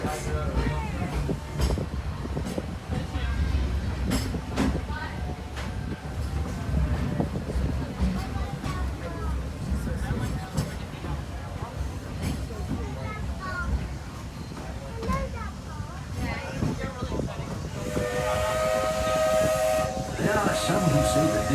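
Steam train on the Walt Disney World Railroad chugging along with hissing and rumbling, then a loud, sustained steam whistle blast near the end; a voice speaks over the running train.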